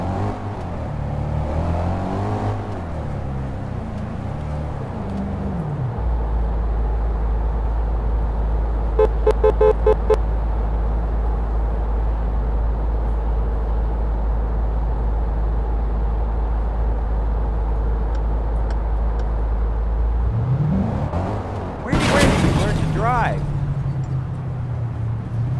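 An Audi taxi cab in the mobile driving game Taxi Sim 2020 speeds along with a steady low engine drone and revving at the start and end, a brief rattling burst midway, under intermittent talk.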